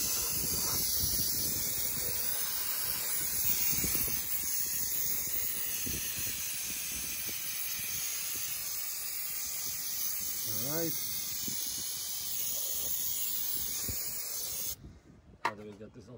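Non-chlorinated brake parts cleaner hisses out of an aerosol can in a long continuous spray over dump trailer drum brakes, loud and close, then cuts off near the end before a few clanks.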